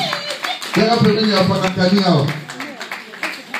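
A church congregation claps steadily and rhythmically, with loud cheering and singing voices ringing over the clapping throughout.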